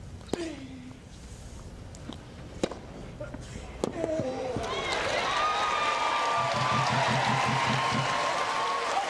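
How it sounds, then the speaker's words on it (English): Davis Cup quarterfinal tennis crowd stirring into noise, a rising wash of murmuring and cheering that swells and holds, with scattered sharp claps and thumps early on. "Now this crowd comes to life."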